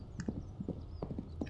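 Hooves clip-clop steadily in a horse riding video game, a light, moderately close rhythm of separate hoof strikes at a walking pace, heard alone without talk.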